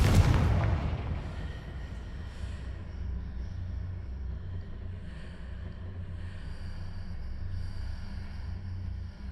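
Spell blast from Confringo in Hogwarts Legacy: one sharp, loud explosive boom at the start, then a low rumbling tail that hangs on under steady ambient game noise.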